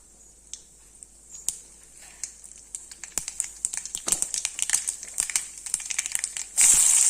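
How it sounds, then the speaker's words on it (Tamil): Mustard seeds crackle in hot oil in a kadai, starting as sparse sharp pops that build into a dense, rapid crackling and end in a louder hissing burst. "அடுப்பில் கடாய் போட்டு எண்ணெய் ஊற்றிருக்கேன். கடுகு போட்டாச்சு."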